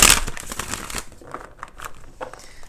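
A loud riffle of tarot cards being shuffled at the start, followed by scattered soft slaps and crinkly handling sounds, close by and without speech.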